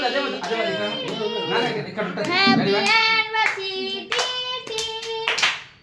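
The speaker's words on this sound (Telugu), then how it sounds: "claps claps" Scattered hand claps ring out amid lively voices talking and calling over one another at a wedding anniversary celebration.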